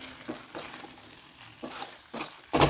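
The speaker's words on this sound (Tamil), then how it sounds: "நல்லா கலந்து விட்டுட்டு ஒரு நிமிஷத்தில் நம்ம இறக்கிக்கலாம்." A spoon scrapes and stirs cabbage and chana dal masala in a sizzling pan, making a few soft, irregular scraping strokes over a faint sizzle that grow louder toward the end.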